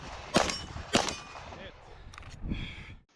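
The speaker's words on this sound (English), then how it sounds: "3 targets left, and I have to conduct a slide lock reload." Pistol gunshots at a multi-gun match, two sharp loud reports followed by the clicks and clacks of a slide lock reload, then another shot.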